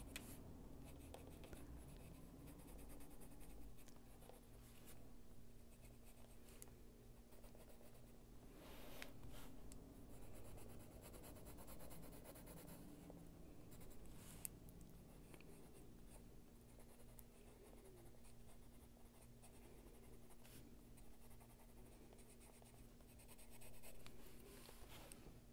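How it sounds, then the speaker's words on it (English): Soft graphite pencil scratching steadily across paper while shading a drawing, a continuous close, quiet rasp with faint pauses and no talk. "And just touch it with that pencil."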